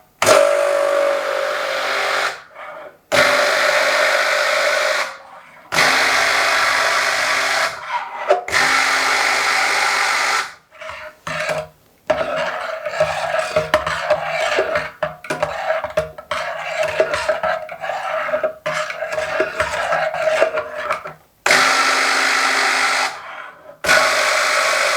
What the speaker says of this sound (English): we're just gonna use the immersion blender very cautiously, just a few pulses to get it started